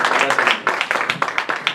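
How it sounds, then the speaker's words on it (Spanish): Church congregation applauding during a service, brisk rhythmic clapping from a group close by, loud and fairly regular, with a voice speaking over it. "Dale fuerte ese aplauso al Rey"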